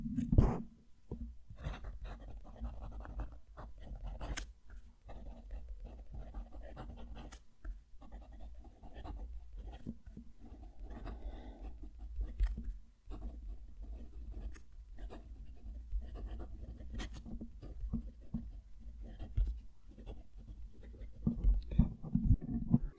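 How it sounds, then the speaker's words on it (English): Fountain pen nib scratching across paper in close, quiet detail, with irregular strokes, taps and soft rubbing as words and hatching are written, no talking. "So that nib, not as talkative as what I get with the M600. It's still nice, you can still hear it"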